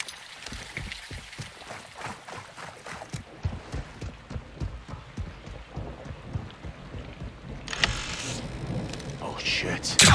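Heavy rain pours down through a video game thunderstorm, with rumbles and sharp cracks of thunder rolling over the downpour. Near the end the rain swells louder and hissier, with faint voices in places.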